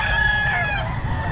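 Rooster crowing at a pet market in Bocaue, a loud, close, sustained cock-a-doodle-doo call filling the whole moment, with faint market bustle underneath and no talking.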